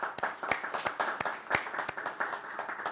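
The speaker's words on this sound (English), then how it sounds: "give John a big round of applause now for contributing this to the game project" A small group claps, producing a scattered, uneven run of hand claps that lasts a few seconds, without any voices.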